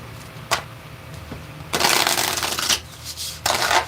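Tarot cards shuffled close by: a lone snap, a pause, then bursts of dense papery shuffling separated by a brief gap, loud and with no voices.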